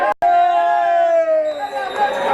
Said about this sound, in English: And that's the full-time whistle. The crowd goes wild.